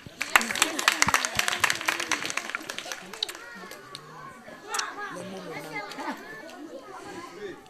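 Children's applause at a school donation event, a burst of scattered, energetic clapping near and loud at first, then fading into excited chatter and children's voices.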